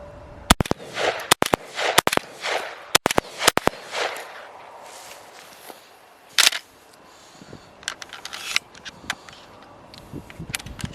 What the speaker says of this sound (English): First shots out of this box. Weatherby Element 20 gauge.